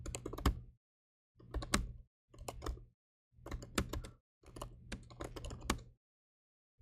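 Computer keyboard typing comes in five short bursts of rapid clicks separated by silent gaps, close and fairly crisp, with no voices.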